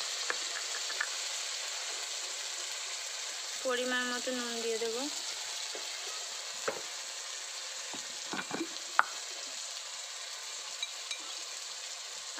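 Ground mustard paste fries in hot oil for a bhola fish dish, a steady close sizzle with scattered pops and a few clinks, while someone briefly speaks over it.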